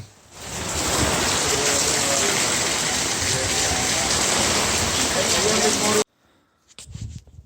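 Heavy, steady rain drums on a tent during a backpacking and paragliding trip in Andalucia, loud and dense for about six seconds before it cuts off abruptly into near silence and a few faint knocks.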